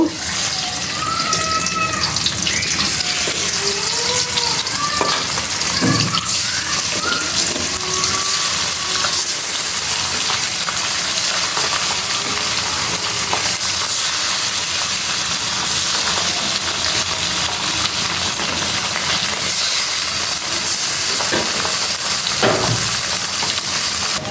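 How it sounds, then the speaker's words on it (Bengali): A long, continuous hiss of frying in oil, with bubbling, watery crackles and faint whistling tones, close and steady throughout. "আর বাকি মাছগুলো ভেজে নিব"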